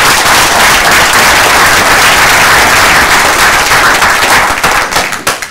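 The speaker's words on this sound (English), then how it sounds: "Give her a round of applause." Loud, dense applause from a recovery support group celebrating a member's 11 months of sobriety, steady clapping that fills the room, then thins and tapers off at the end.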